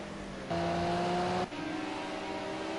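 BMW race cars lapping the Zolder circuit in a sim racing game, a steady droning engine note that shifts pitch as the cars accelerate, continuous and fairly loud with no talk.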